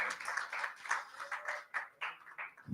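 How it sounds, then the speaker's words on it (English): Workshop participants clapping for themselves, a steady patter of many hands at moderate distance, continuous through the moment with slight swells and dips. "Yeah, you can applaud yourself."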